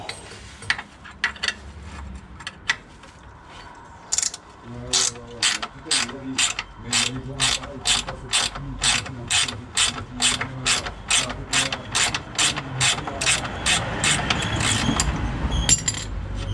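A ratchet wrench turns a bolt on the engine mount of a Renault Clio 2 RS, with a long run of close, rapid, evenly spaced clicks after a few brief taps.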